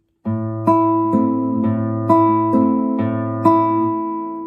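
Flamenco guitar thumb (pulgar) strokes pluck a rhythmic pattern of about seven clear, ringing notes in a 1-2-3, 1-2 grouping, each attack sharp and the strings sustaining between, close and alone.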